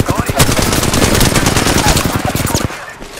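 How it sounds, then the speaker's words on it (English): Rapid automatic gunfire in the video game Apex Legends aimed at the player, a loud dense burst of shots for nearly three seconds before cutting off abruptly. "I'm getting shot at."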